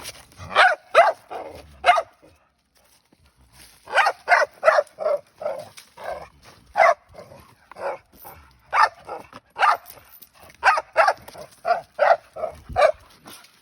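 Bulldog barking in bursts of gruff, throaty barks, several clustered groups separated by short pauses, close and fairly loud with no talk over them.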